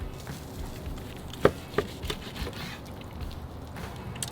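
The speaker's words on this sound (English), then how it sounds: "we're gonna use our knife and start cutting large bite-sized chunks" A knife cuts twice-smoked ham into chunks on a cutting board, with a few sharp, irregular thuds against the board over quiet background.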